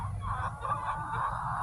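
Backyard chickens cluck softly in a chicken run, a low continuous murmur of several birds, moderately close with no voices over them.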